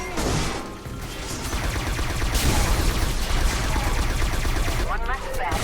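Rapid automatic gunfire from guns in the shooter game Scourge: Outbreak, loud and sustained in dense bursts with a brief gap near the start, ending with a short metallic mechanism sound.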